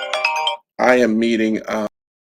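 A phone ringtone plays as a melodic electronic ring, loud and close, in bursts separated by short gaps, during an online author Q&A session.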